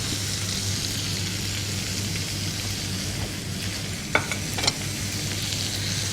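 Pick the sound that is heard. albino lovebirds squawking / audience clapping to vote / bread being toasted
bread being toasted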